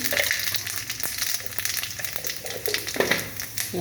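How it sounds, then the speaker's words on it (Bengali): Panch phoron spices sizzling in hot oil in a kadai, a steady broadband crackle with scattered sharp pops, close and continuous, with no voices over it. "তাই আমি কড়াই তেল দিয়েছি আর দিয়ে দেবো 5 ফোড়ন, সামান্য 5 ফোড়ন।"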